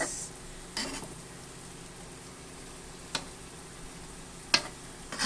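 Curry ampalaya with chicken sizzles quietly in a pan, a steady low frying hiss broken by a few sharp utensil scrapes and clicks as it is stirred now and then.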